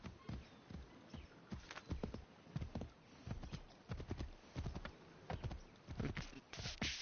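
Steady clip-clop of horse hooves trotting at a brisk, even rhythm in the video game Assassin's Creed 3 Remastered, close and fairly loud, with no voices over it.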